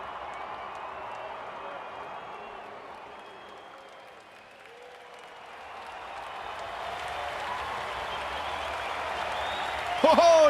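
At an IPL 2026 cricket match involving CSK, a stadium crowd applauds a dot ball, a steady wash of clapping and crowd noise that dips briefly and then swells louder toward the end.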